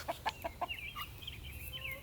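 Backyard hens near their coop give a quick run of four sharp clucks, followed by softer chattering calls over a low background rumble.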